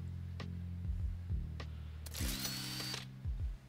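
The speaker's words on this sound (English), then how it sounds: "I go with the laser drill" Laser drill digging ore in a video game, heard as a steady mechanical drone with low rumbling pulses and a loud burst of bright crackling grinding midway, with no talking.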